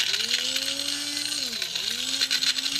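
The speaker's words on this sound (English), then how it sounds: "We're going to be grinding these in the spice grinder." An electric spice grinder whirs through toasted dried chilies with stems and seeds removed, a steady close motor whine whose pitch dips and recovers as the pieces break up.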